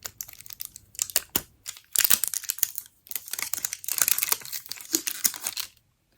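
Fingernails picking and tearing at plastic product packaging, bursts of crinkling and sharp scratchy rips coming in irregular clusters, close and fairly loud, then silence.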